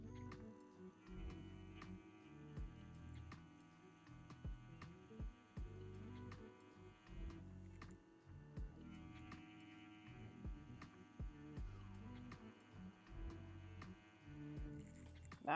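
A JCONLY Epoch tattoo machine runs at 8.5 volts with a 3.6 millimeter stroke, giving a steady faint motor hum and throb with small ticks, close and alone.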